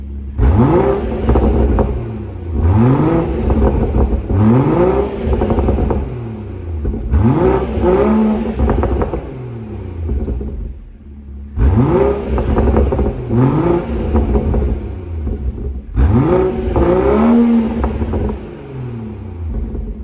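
A stationary BMW 340i M Sport revs hard several times in a row in Sport Plus mode, its loud M Performance exhaust roaring up and dropping back between bursts, close by.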